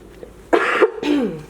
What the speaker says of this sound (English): I'm going to be coughing